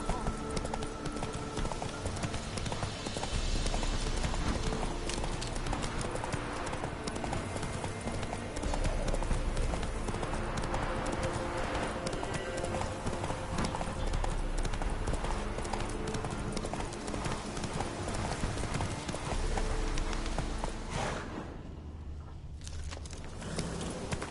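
In The Witcher 3, a horse's hooves clip-clop steadily and rhythmically at close range, with an ambient game background underneath, then fade briefly near the end.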